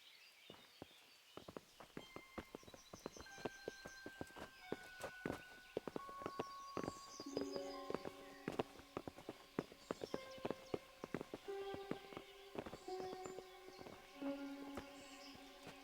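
Horse hooves clip-clopping in the medieval video game Kingdom Come: Deliverance, a steady run of crisp, closely spaced hoof strikes with sustained musical tones underneath and faint bird calls.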